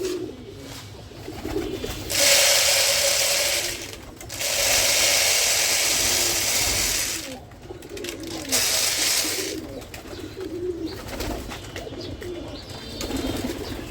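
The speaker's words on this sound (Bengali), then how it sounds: "কবুতর সব কবুতর এখানে বসে আছে" Pigeons coo softly near at hand under stretches of loud whirring flutter, with rustling and movement throughout.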